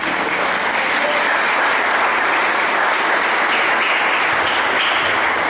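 Sustained applause from a church congregation during a sermon, a loud, steady wash of clapping that holds evenly throughout without pause.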